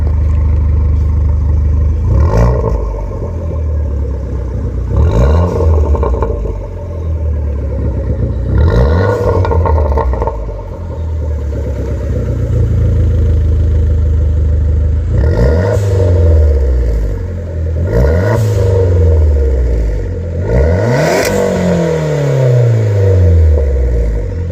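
An Abarth Punto revs repeatedly through a custom SS304 stainless-steel catback exhaust by Speed Sport with an enlarged tip. About seven sharp throttle blips rise and fall over a steady, close, loud engine drone, with no talking.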